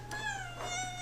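A cat gives a short, thin meow with a falling pitch, close and fairly quiet, over a steady low electrical hum.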